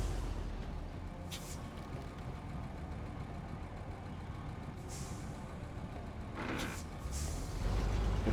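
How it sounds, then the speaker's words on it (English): Heavy truck in the SnowRunner game uncoupling a trailer on a road train: a steady low engine idle runs throughout, broken by several sharp hissing bursts of air brakes releasing, the last one louder near the end. "I'm going to detach the trailer real quick"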